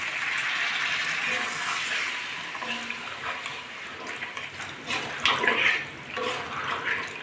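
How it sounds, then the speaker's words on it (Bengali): Water poured into a pan of fried potatoes and pointed gourd for a vegetarian curry, a continuous close rushing pour with bubbling and sizzle that swells briefly near the end. "আমি এখন জলটা দিয়ে দিচ্ছি।"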